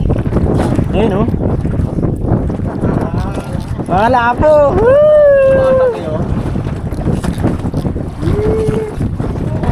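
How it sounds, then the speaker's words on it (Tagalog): Loud wind roars steadily across the microphone throughout at a waterside spot with a strong current in Nasugbu, Batangas, with voices calling out over the buffeting gusts. "lakas kasi ng hangin"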